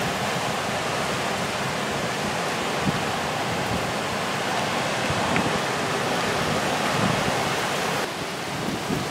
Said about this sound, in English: Look at that rain blowing sideways there.